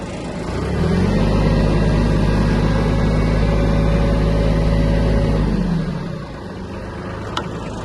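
A Kubota A-175 Japanese mini tractor engine runs with a steady, loud mid-pitched drone that holds for several seconds, then drops to a quieter idle.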